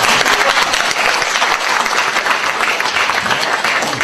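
Sustained applause from a community gathering audience, dense and even clapping from many hands filling the whole stretch at close range without a break.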